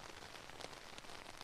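Steady rain falls in a dense, even patter on surfaces outdoors at a gathering of Manchester United fans, a faint continuous wash with no voices.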